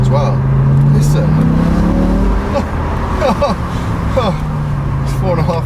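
A BMW M6 with its V10 engine rumbles steadily while driving through town, the revs climbing and holding in a continuous loud drone, with speech faintly over it.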